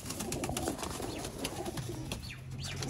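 Rooftop Sialkoti pigeons coo repeatedly in soft, overlapping rounds, with occasional wing flutters and small chirps, close and continuous against a busy outdoor background.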